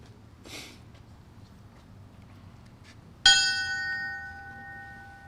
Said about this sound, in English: Ringing the bell